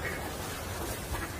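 Ducks quacking faintly by a riverbank on a winter walk while being fed bread, a couple of short quacks under steady outdoor background noise.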